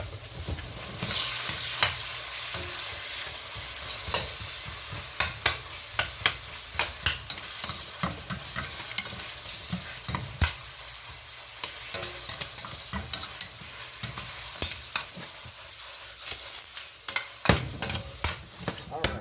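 Philly cheese steak sloppy joe filling frying in a pan alongside potatoes, a steady loud sizzle broken by frequent sharp scrapes and clicks of a utensil stirring against the pan, close up, with no talking.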